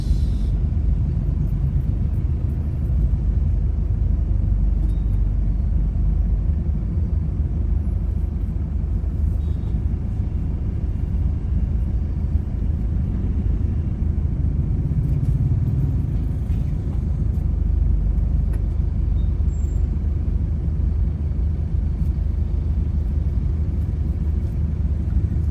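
City street traffic with jeepneys in Dagupan City, a continuous low rumble of engines and passing vehicles, steady and fairly loud without speech.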